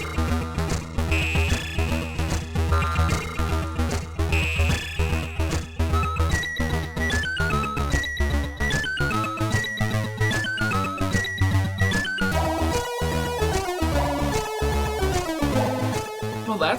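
Chiptune soundtrack from the Commodore 64 game Dark Castle, with steady bass, layered bright melodic lines and shifting arpeggios playing loud and continuous with no talk.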